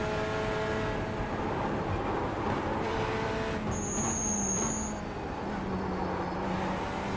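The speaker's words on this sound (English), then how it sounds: "Sounds like a strimmer." A race car engine in a sim racing game buzzes with a thin, strimmer-like drone, holding a steady rev with a few small pitch shifts and a brief higher whine partway through.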